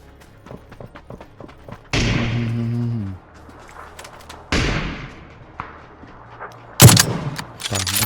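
PUBG video game gunfire cracks out in loud, sharp bursts, two sustained volleys and a final close blast, separated by quieter stretches of footsteps and small thuds.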